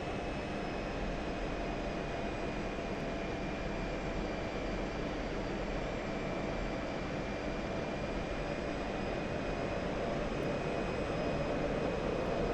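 An F-16 Viper jet engine in a flight-simulator game, a steady loud broadband roar with a faint high whine, holding constant throughout with no talking.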